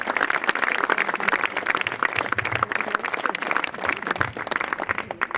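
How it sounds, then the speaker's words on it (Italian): Audience applause greets the mayor as an Italian evening event opens, dense steady clapping from a sizeable crowd that keeps up throughout without a pause. "Accogliamolo con un bel applauso"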